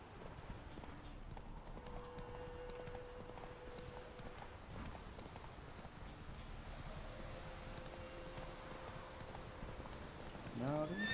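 A horse's hooves clip-clop steadily in The Witcher video game, a quiet even trot under soft ambient wind and game background sounds.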